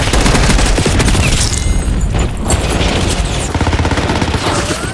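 Rapid automatic gunfire in Call of Duty Black Ops 6 Warzone crackles in loud, dense bursts with booming impacts, sustained throughout with no speech.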